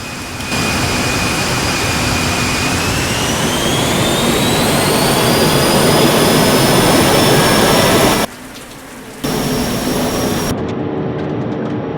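Air India Boeing 737 jet engines roaring loud and steady on the takeoff roll, with a rising whine as power builds, then a brief drop and return before the sound cuts off.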